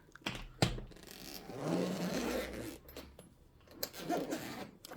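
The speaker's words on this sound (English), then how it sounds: "we have here zippers. Let's open these." Zippers on a Shark Ninja FlexStyle storage case are pulled open, giving a couple of raspy, scraping runs of a few seconds at close range with no talk over them.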